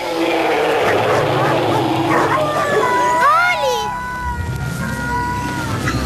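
A dog barks and yelps a few times with whining, rising cries, close by, over a busy background of voices and bustle.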